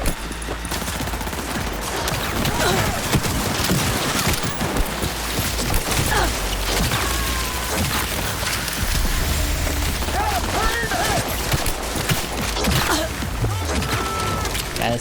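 Sustained automatic gunfire from Cyberpunk combat, dense rapid bursts over rumbling low end and scattered mechanical clatter, loud and continuous throughout with a voice faintly mixed in.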